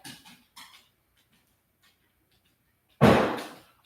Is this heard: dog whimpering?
yes